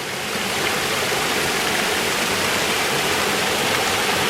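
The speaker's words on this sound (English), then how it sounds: "Okay, we're on top of the waterfall now." A steady, full roar of rushing water, constant and broad, heard from the top of a waterfall in Utah.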